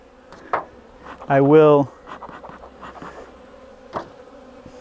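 Honey bees buzz steadily around a hive in spring, a close, continuous drone with one louder surge as a bee passes near, while someone talks over it.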